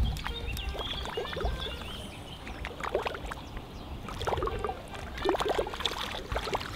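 A 3D-printed fishing lure with a rotating propeller is pulled through water, giving repeated wet plopping and splashing sounds over a continuous outdoor water and background noise, with no talking.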